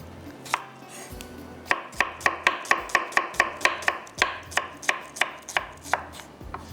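Brisk knife chops through onions on a cutting board, a steady run of about a dozen sharp close taps, with no talking.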